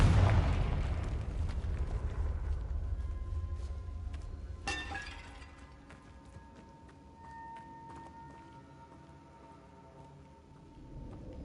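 A Confringo blasting spell explodes in a Harry Potter video game: a loud burst with a rumbling, debris-like crackle at the start, then a sharp crack midway, fading into a low ambient rumble.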